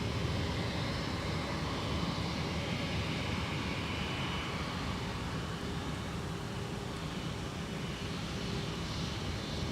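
United Airlines Airbus A319 jet taxiing at Minneapolis–St. Paul Airport, bound for Denver; a steady, broad engine roar holds at an even level throughout, fairly close and unbroken, with no voices.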